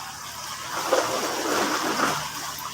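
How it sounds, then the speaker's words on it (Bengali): Floodwater flowing over a road after an hour of heavy rain, a steady wash of rushing and splashing water, moderately close, continuous with no talk. "সেই পানি বন্যার মতো, বন্যা হয়ে গেছে একদম রোডের মধ্যে।"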